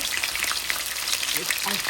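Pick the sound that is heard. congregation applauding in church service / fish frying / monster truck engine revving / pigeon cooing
fish frying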